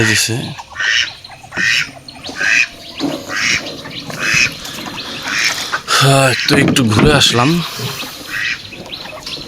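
Ducks squawk and quack around a village pond ghat in the rainy season, loud and near in repeated bursts, mixed with people talking throughout.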